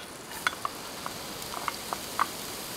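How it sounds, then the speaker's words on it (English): Minced onions sauté in olive oil in a large Dutch oven over medium-high heat, giving a soft steady sizzle dotted with a handful of small sharp pops. "In a large Dutch oven over medium-high heat, I'm adding the olive oil along with the minced onions."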